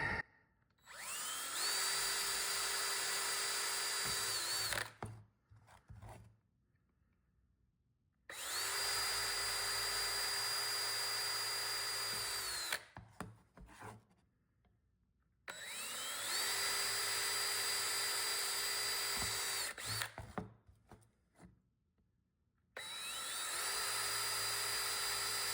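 Power drill boring holes into a mask base, three sustained high-pitched whining bursts of about five seconds each, separated by short pauses, loud and close.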